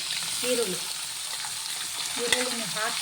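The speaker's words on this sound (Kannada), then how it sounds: "ಈರುಳ್ಳಿನ ಹಾಕಿ ಚೆನ್ನಾಗಿ ಫ್ರೈ ಮಾಡಿ" Peanuts, curry leaves and onion fry in a pan for bisibele bath, a constant crackling sizzle with occasional scrapes of stirring.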